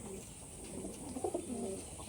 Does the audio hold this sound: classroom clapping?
no